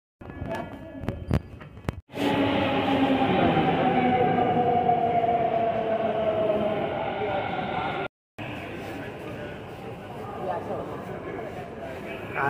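A Delhi Metro train runs with a loud, steady rumble and rushing whoosh that starts abruptly after about two seconds, holds evenly, breaks off for a moment, then carries on, with faint voices around it.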